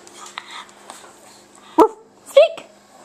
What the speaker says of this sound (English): Speak, Oscar. Speak